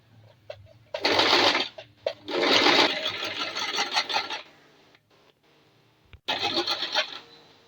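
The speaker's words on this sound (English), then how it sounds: "I'm just sewing" A sewing machine stitches boning onto a spiral flounce in several bursts, each a close rapid whirring rattle separated by short pauses.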